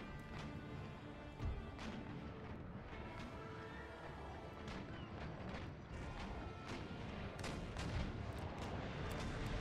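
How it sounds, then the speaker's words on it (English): Sailing warships fire round shot in a naval battle in Empire: Total War. Overlapping cannon booms roll on continuously, forming a dense, fairly faint barrage. "Discovery is going to fire at will with round shot as they make the turn."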